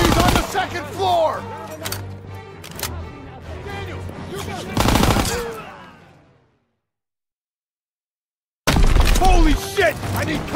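Dense gunfire in the Call of Duty: WWII video game, with rapid loud shots amid battle noise and shouting voices, then a sudden drop to silence before the heavy firing bursts back in.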